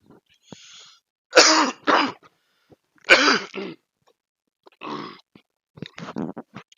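Several harsh throat clearings and coughs from a man with a cold come in short, separated bursts close to the microphone, with quiet pauses between them.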